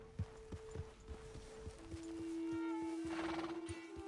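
Horse in Red Dead Redemption 2 whinnies with a long, rising neigh over a steady rhythm of hoofbeats, close and fairly loud, with no talking.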